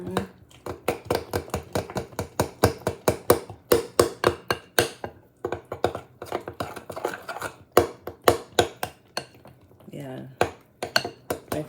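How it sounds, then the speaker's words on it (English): A spoon beating banana chocolate chip cake batter in a mixing bowl, making a fast, steady run of close scraping knocks against the bowl that pauses briefly near the end. "So right now I'm just stirring it really good."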